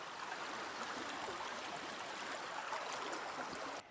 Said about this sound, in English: We have made it back to the Franklin Gordon River.